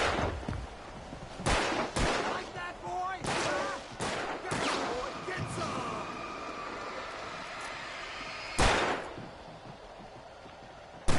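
Gunshots in the video game Alan Wake Remastered, a handful of sharp loud shots spread irregularly across the scene over ambient game sound, with a voice speaking in places.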